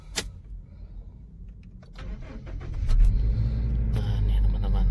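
A 2013 Toyota Grand New Innova manual, petrol, cranked from inside the cabin: faint key and switch clicks, then the engine turns over around the three-second mark and settles into a steady low idle rumble.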